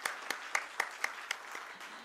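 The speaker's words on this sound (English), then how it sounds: "let's have a huge round of applause" Applause at a stock exchange listing ceremony for an infrastructure investment trust, heard faintly with several distinct sharp claps repeating at a steady rhythm over a soft background wash.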